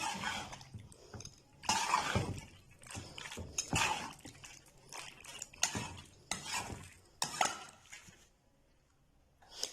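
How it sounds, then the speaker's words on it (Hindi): Boiled pasta is stirred into a creamy white sauce in a pan, making soft, uneven scraping and squelching with light clinks of the utensil against the pan, quiet and close. "अब हम अपना बॉयल पास्ता जो है वो शामिल कर देंगे, अच्छी तरह मिक्स करेंगे"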